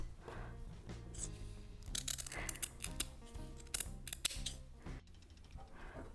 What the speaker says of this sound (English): now let's cut some eyes to sew on the hat